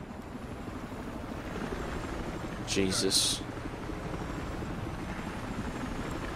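A helicopter in the Battlefield Hardline video game makes a steady, continuous rotor drone throughout, with a short burst of clanking game sound and a brief spoken exclamation partway through.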